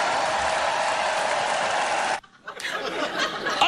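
A large political crowd cheers and applauds in a dense, sustained roar, breaking off briefly before swelling again.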